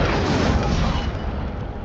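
Incendio fire spell cast in Hogwarts Legacy: a loud, dense roaring whoosh of flame that bursts at full strength and holds steady for about two seconds, gradually easing toward the end.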